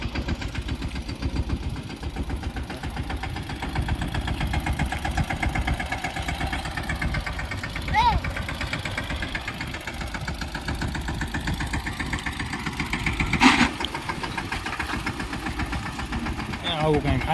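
A farm tractor engine runs steadily at close range with a continuous low chugging rumble, with a couple of brief clanks; a voice speaks over it.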